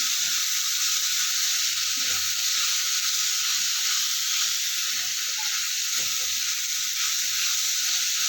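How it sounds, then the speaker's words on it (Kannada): Green chillies and coriander leaves fry in a pan, giving a loud, continuous close-up sizzle with a steady hiss and faint stirring scrapes. "ಇದನ್ನೆಲ್ಲ ಮತ್ತೆ ಚೆನ್ನಾಗಿ ಫ್ರೈ ಮಾಡ್ಕೊತಾ ಇದ್ದೀನಿ"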